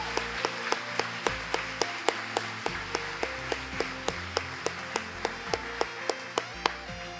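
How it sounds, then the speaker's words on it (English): Audience applause at a 2016 Clinton County and 4-H Fair queen contest, with sharp, evenly spaced claps standing out over a steady bed of many hands, moderately loud in a large hall. "I'd like to give them one more big round of applause,"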